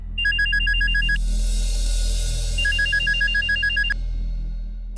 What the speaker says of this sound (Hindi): कहीं फिर से रणबीर का फोन तो नहीं?